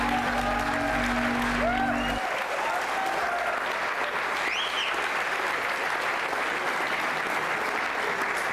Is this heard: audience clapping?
yes